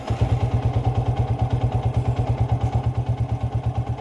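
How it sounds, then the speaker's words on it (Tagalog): Motorcycle engine idling roughly after starting, with a weak regulator/rectifier and battery. The loud, close, rhythmic low putter pulses steadily with a faint mechanical clatter on top, and no voices are heard. "hirap yung makina"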